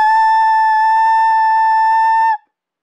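A clarinet mouthpiece blown alone gives a single loud, shrill, steady squealing tone that holds for over two seconds and cuts off abruptly.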